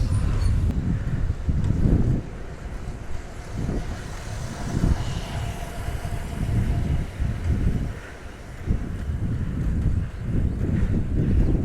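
Steady, heavy wind rumble buffets the microphone while cycling into a headwind on a highway between Talaimari and Belpukur, with a continuous roaring wash that swells and dips, loud and close throughout.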